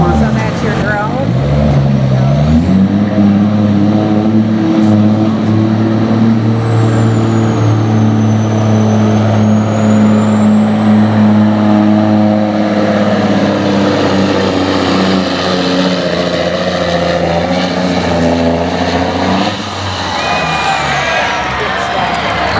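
Peterbilt semi truck pulling a sled at a TTPA truck pull in Fowlerville, Michigan: a loud, sustained diesel engine roar building and holding for about twenty seconds, with a crowd and announcer faintly beneath.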